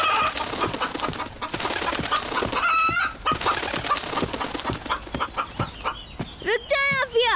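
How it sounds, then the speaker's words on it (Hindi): A rooster being pestered by a child clucks and squawks in loud, agitated calls against a busy, dense background, with a sharp harmonic cry midway and more squawks at the end. "आप क्यों तंग कर रही है इस बेचारे मुर्गे को?"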